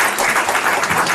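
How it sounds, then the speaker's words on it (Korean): An audience at a joint declaration event on relocating Seoul Air Base applauds four election candidates, giving a short, dense, loud burst of clapping. "네 분에게 다시 한번 뜨거운 박수 부탁드리겠습니다."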